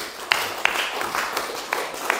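A church congregation claps for mothers during a Sunday service, with scattered, loose handclaps over a hall-like wash of sound, moderately loud.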